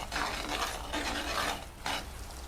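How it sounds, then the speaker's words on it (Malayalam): A Malabar-style mussel pickle mixture is stirred in a pan with a spoon, giving scraping, rasping sweeps in bursts with a faint sizzle beneath, fairly close and steady, no voices. "നല്ലോണം മിക്സ് ചെയ്യുക"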